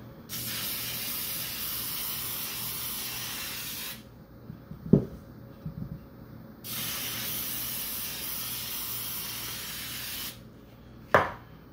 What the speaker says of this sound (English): So let me spray down my baking pan.